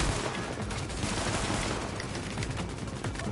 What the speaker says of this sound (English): Okay, stop shooting at me, please.